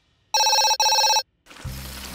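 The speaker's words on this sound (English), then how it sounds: "I just need to answer the phone" A cartoon garage telephone gives two loud, close electronic ring bursts and then goes quiet, followed by a short low rumble as the ringing stops.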